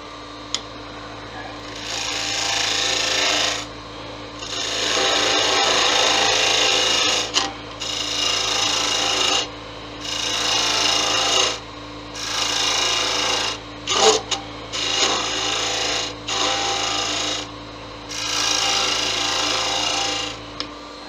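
Wood being cut away on a lathe with tailstock support in place while turning a Christmas angel, giving a steady scraping rasp in repeated bursts of a few seconds each, separated by brief pauses, close and fairly loud.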